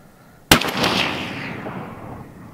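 A single loud blast as a shot grenade explodes outdoors, with a sharp onset and a long rumbling decay that fades over about two seconds.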